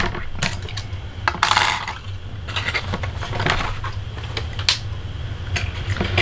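Cardstock being cut for a stamped sentiment, heard as a run of sharp clicks and taps with a brief scraping slide of the blade partway through, close and fairly loud with no voices.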